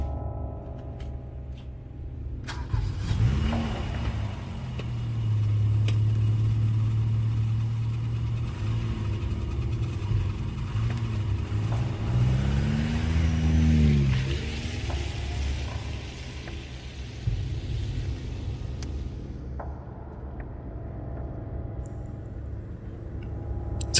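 A 1990s car on a drive home toward Bandung, with the engine revved hard several times on winding roads. The revs climb and fall in clear rising and falling sweeps over a steady drone of road noise, heard close from inside the cabin.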